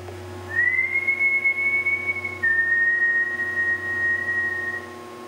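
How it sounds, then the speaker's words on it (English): A person whistles a long, clear, sustained note that rises, holds, then drops to a second steady pitch, loud and close over a faint background hum. "If I whistle, can you whistle back?"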